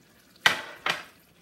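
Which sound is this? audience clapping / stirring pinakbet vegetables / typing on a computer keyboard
stirring pinakbet vegetables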